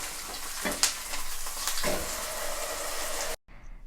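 Food with its skin side down sizzling in a pan after being flipped, a soft steady frying hiss with a few brief clatters and scrapes, cutting off abruptly near the end.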